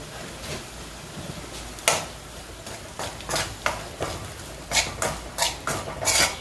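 A spoon stirs Kashmiri chili powder in a pan while lime pickle is made, giving close, irregular scrapes and clinks of metal on metal, louder toward the end.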